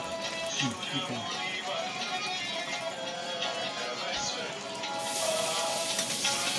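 Green beans and mushroom noodles stirred in a hot pan, a close, moderate sizzle with clattering utensil scrapes and tossing sounds throughout, a burst of brighter hiss near the end, with faint voices in the background.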